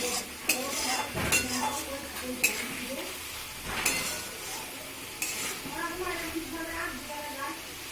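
Egg curry (dim kosha) simmering in a pan while being stirred, with spoon scrapes, clinks of utensil against metal and a soft bubbling sizzle running underneath throughout.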